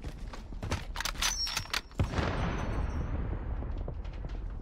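Loud gunfire in a Warzone match: a rapid burst of close shots followed by a heavy blast that rolls off into a long rumbling echo.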